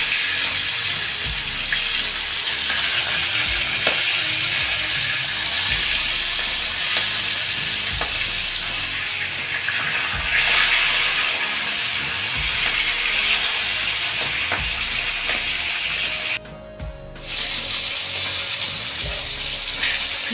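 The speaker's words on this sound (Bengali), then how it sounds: "মাছ ভাজা এক পিঠ হয়ে গেছে, আমি আরেক পিঠ উল্টে দেবো" Silver carp pieces fry in hot oil in a pan, giving a steady, close broadband sizzle that runs throughout, with faint utensil clicks and a brief dip in the hiss near the end.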